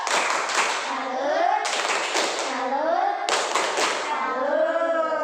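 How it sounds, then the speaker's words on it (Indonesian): Fourth-grade pupils in a classroom perform a chanted clapping cheer in three quick bursts, rhythmic hand claps layered with their voices chanting together in unison. "Kita tepuk salut buat Agnia"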